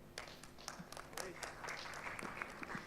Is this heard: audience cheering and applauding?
yes